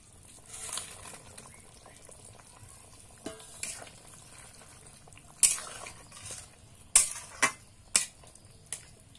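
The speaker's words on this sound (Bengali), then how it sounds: "এবার ভেজে রাখা ময়দাগুলো দিয়ে দিচ্ছি।" Fried flour dough pieces go into a simmering vegetable curry for Mayapur-style moyda sabji, with a few sharp clinks of a spoon against the pot and stirring over a low, steady background.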